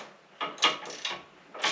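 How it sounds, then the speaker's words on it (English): A 7/16 ratchet wrench turns a bolt in a shed, giving four or five short bursts of clicking ratchet strokes at close range, each stroke a quick raspy burst separated by brief pauses. "Using a ratchet 7/16, boy."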